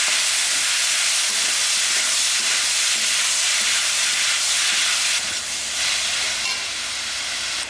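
Potatoes sauté in a hot pan for a side dish, giving a loud, steady hiss and sizzle that carries on throughout with no voices.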